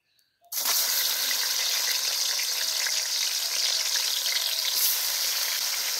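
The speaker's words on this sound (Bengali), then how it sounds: "দিয়ে দিব সর্ষের তেল, গরম হয়ে গেছে, এখন মাছটা ভেজে নিব।" Magur fish coated in raw spice paste drops into hot mustard oil, setting off a sudden loud, steady sizzle that begins after a brief quiet moment and continues close up without talk.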